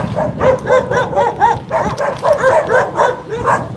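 Several dogs bark repeatedly in a steady, rhythmic series, fairly close and loud, with outdoor background noise underneath, in the Dominican Republic.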